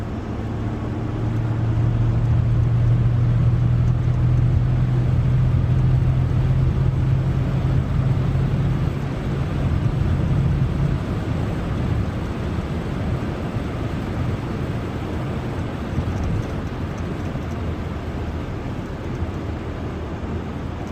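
Cars racing along a busy highway in traffic, close to an MG Cyberster: a loud, continuous roar of engines and tyres on the road, with a sustained droning hum through the first half and no talking.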